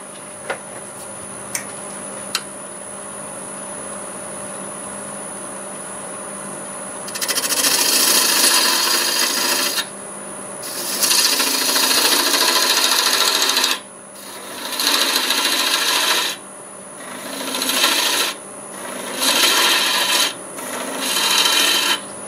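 A 3/8 bowl gouge shaves red cedar spinning on a wood lathe, coming as a series of loud rasping cuts of a few seconds each, separated by short pauses, over a steady motor hum.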